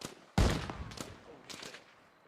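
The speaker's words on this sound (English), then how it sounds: "We're trading fire with that squad size coming in from the east." A burst of gunfire in a military video game: one sharp, loud volley followed by a few quicker, fainter shots trailing off.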